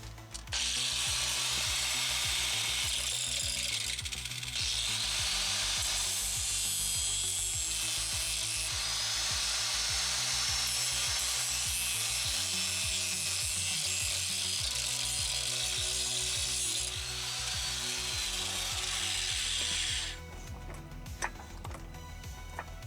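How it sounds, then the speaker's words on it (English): An angle grinder cuts away metal for clearance during a van kit installation, a loud continuous high-pitched whine and grinding that runs steadily for about twenty seconds before cutting off, followed by a few faint clanks. "So let's get the grinder and get to work."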